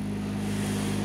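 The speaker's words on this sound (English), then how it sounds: "So the noise you can hear is the generator." Generator running outside a cabin on a frosty morning, a steady low droning hum that stays constant and fairly close throughout, with no talking.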